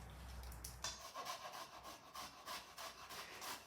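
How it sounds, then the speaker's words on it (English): Garlic cloves rubbed against a grater in a repeated, steady back-and-forth rasp, close and fairly quiet, with no talking. "so I'm going to grate that in"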